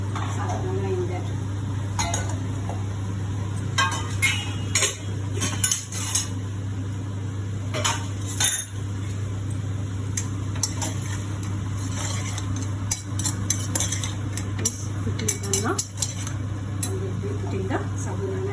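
Sabudana (tapioca pearls) being stirred in a metal cooking pot, with scattered clinks and scrapes of a utensil against the pot over a steady hum, while a person talks intermittently.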